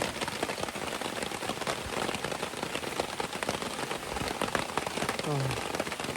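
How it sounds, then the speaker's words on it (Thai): Rain falls heavily and steadily outdoors near a mall, a dense, continuous patter on surfaces, with a faint voice briefly audible near the end. "ถึงฝนจะตกอย่างนี้นอนดูเนี่ยมันก็มีแบบว่า ความสุขดีนะ"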